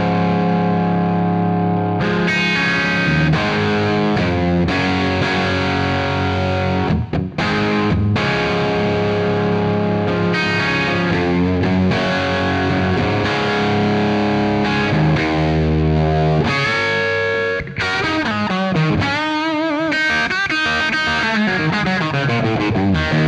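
Electric guitar played through a BRBS Vintage Class 3+ amp with pedals and delay in the effects loop: loud, continuous distorted chords and riffs with heavy effects, dense and sustained with brief breaks, no talking.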